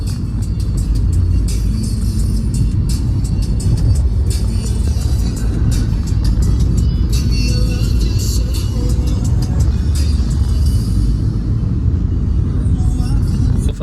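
Heavy road traffic on the way to Panvel, a steady loud rumble of car and bus engines with passing vehicles and occasional horns, continuous throughout.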